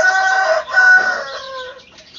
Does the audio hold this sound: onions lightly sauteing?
no